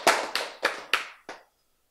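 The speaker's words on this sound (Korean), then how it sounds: "박수" Five sharp, evenly spaced hand claps ring out alone and close by in a quiet room during a lecture on prayer, each with a short decay, then silence.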